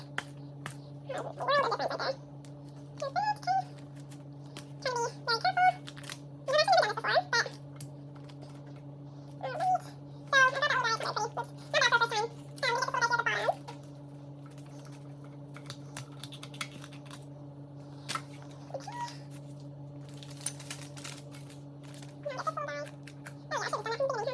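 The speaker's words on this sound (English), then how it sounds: "I'm going to use my kitchen shears and cut through these bad boys." Kitchen shears snip through whole branzino, giving sharp, scattered crunching clicks spread over the stretch, mixed with a person talking at a close range over a steady low background hum.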